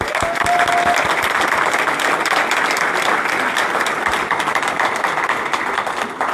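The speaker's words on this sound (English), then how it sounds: "So can we give a round of applause again there?" A banquet audience at a sports hall of fame enshrinement gives a sustained round of applause, dense and steady clapping from a large room that holds for several seconds.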